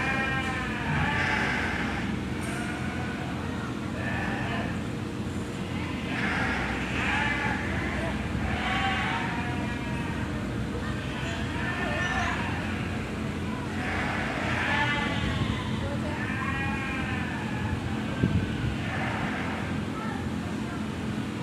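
Many sheep bleat repeatedly at a sheep show, some near and some farther off, over a steady background hum with a voice talking through it.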